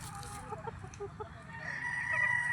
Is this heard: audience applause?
no